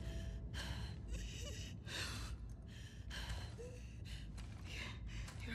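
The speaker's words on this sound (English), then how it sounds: "Your breathing's worse." Labored, gasping breaths from a character in The Last of Us Part II, repeated in ragged bursts close up with a steady game ambience underneath.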